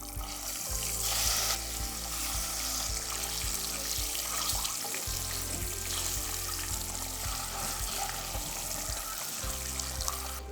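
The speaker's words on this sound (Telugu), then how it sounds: "ఆయిల్ కొంచెం మరగగానే ఇందులో ఒక 4 ఎగ్స్ని అయితే యాడ్ చేసుకుంటున్నా." Four eggs fry in oil seasoned with turmeric and chilli powder for egg masala curry, a continuous crackling sizzle close to the pan with occasional stirring and faint water-like bubbling, and no speech.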